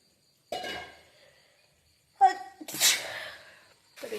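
A person with a cold sneezes close by, with several sharp, forceful bursts separated by short pauses and quiet breathing.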